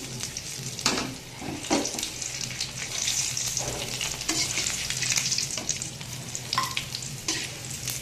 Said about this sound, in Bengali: ভেন্ডিটাকে আমি লবণ আর হলুদ মাখিয়ে তেলে ভেজে নিলাম